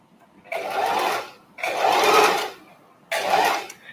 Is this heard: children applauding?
no